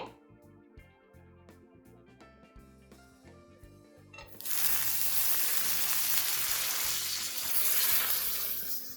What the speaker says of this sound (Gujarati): અત્યારે આપણે તવા પર શેકવાના છીએ પનીર સ્લાઇડરને તવા પર શેકી લઈએ